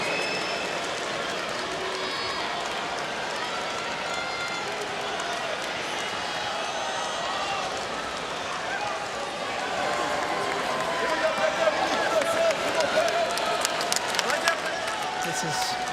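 Spectators at a Laver Cup tennis match between Schwartzman and Rublev, a broad murmur and rustle of the crowd that swells with scattered claps and shouts toward the end, under a commentator's talk.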